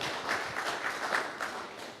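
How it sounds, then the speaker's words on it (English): Audience applause at a neighborhood community meeting at Wildwood Elementary, a brief spell of scattered clapping that carries steadily across the room without anyone talking. "let's give them a big round of applause"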